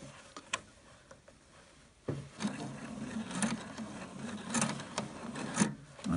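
A home sewing machine stitches with elastic thread, its motor running in a steady mechanical whir after a couple of seconds of quiet handling noises, moderately close.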